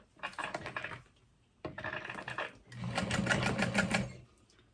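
Home sewing machine stitching a tote bag seam with a long stitch length, three runs of steady mechanical whirring, two short bursts separated by a pause and then a longer, louder stretch, with no talking.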